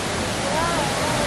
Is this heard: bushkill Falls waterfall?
yes